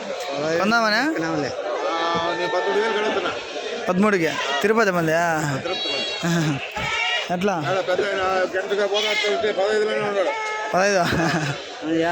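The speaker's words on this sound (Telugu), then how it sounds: "ఇక్కడ మేక బతులు ఉన్నాయి మేక బతులు ఫుల్గా వచ్చినాయి" Goats bleat repeatedly at the crowded Kadiri livestock market, with wavering cries from several animals overlapping nearby amid constant chatter and talk.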